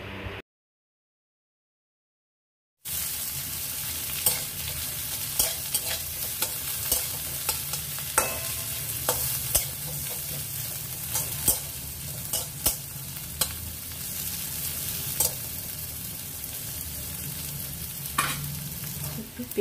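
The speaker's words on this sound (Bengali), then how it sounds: "2 মিনিট নাড়াচাড়া করে নেব" Onions sizzle in a pan while a spoon stirs and scrapes them in a run of sharp, irregular clicks over a soft steady fry, quiet and close, starting after a short silent gap.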